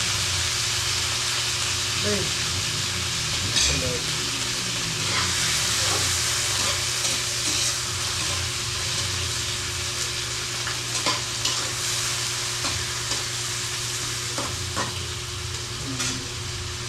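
Chicken sautés with onion in a pan: a steady, close sizzle runs throughout, broken by frequent scraping and clinking as a utensil stirs the meat.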